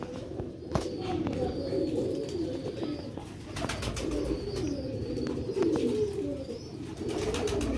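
Several Sialkoti pigeons coo repeatedly in low, rolling murmurs, close and continuous, with faint clicks and rustles between the calls.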